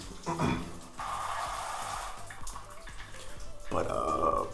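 A shower runs with very hot water and solid pressure, a steady hiss of spray close by while someone talks over it.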